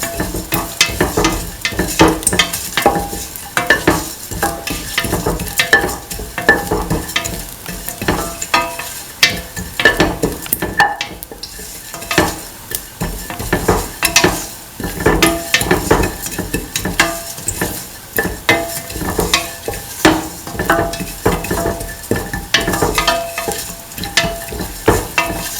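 Fennel and mace sautéing together in a hot pan, with a loud, continuous sizzle and frequent scraping stirs and clinks throughout, no voices.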